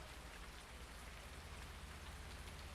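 Rain falls in the farming video game Farming Simulator 19: a soft, even, continuous patter of raindrops on surfaces, fairly quiet and steady throughout, with no voices.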